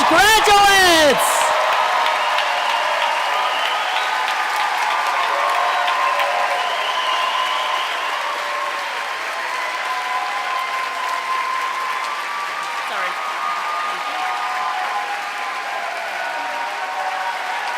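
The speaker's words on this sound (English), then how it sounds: "let's give a round of applause for our future leaders, 2019 Eugene Lane College graduates" A large ceremony crowd applauds the graduating 2019 Eugene Lang College class with sustained, dense clapping. A voice is heard briefly at the start, and the clapping holds steady before slowly tapering.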